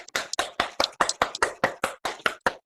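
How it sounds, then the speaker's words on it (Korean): A small audience at a lecture claps in a quick, steady rhythm, about a dozen even, crisp claps at moderate loudness with no talking over them. "박수 한번 칩시다."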